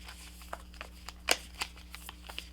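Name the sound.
shuffling a deck of cards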